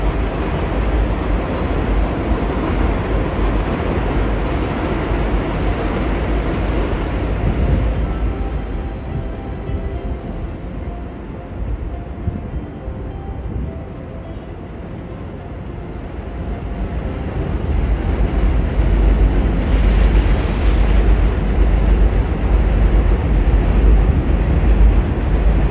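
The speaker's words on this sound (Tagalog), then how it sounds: "Hingay ng tren" A train rolls past, a loud, continuous broadband rumble that dips for a few seconds midway, then swells again as the cars keep passing close by.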